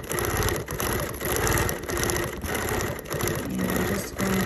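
A sewing machine stitches a collage quilt with a fast, steady mechanical whirr and rapid needle clatter, loud and close, pausing briefly a few times, no talking.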